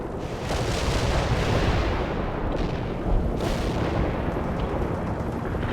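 An artillery barrage pounds in the video game World in Conflict, a dense, continuous rumble of heavy impacts with a couple of sharper blasts standing out, loud and unbroken.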